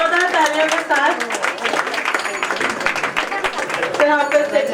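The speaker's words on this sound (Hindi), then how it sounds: "और जोरदार तालियों के साथ" Loud crowd clapping welcomes new trustees at a school gathering, a dense patter of many hands rising under a voice and continuing steadily throughout.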